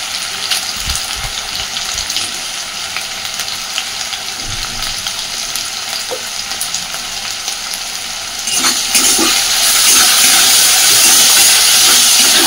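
Potatoes frying in oil in a pan, a steady loud sizzling hiss that swells brighter and fuller toward the end, close and continuous with no talk.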